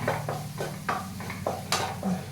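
An egg stir fry, egg thoran, being stirred in a pan, giving a regular rhythm of scraping, clinking strokes from the utensil against the pan, close and moderately loud.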